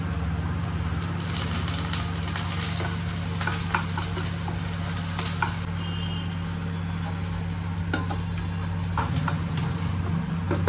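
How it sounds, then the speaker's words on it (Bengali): Onion, garlic and chopped chili sizzle steadily in a pan, with a close, continuous frying hiss broken by occasional stirring scrapes and no talk. "চলো এবার এক এক করে একটু পেঁয়াজ, একটু মানে একটু রসুন"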